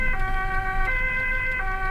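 A Dutch ambulance siren sounding as a steady, loud two-tone wail that switches pitch roughly every three-quarters of a second, with light traffic rumble underneath and no talking.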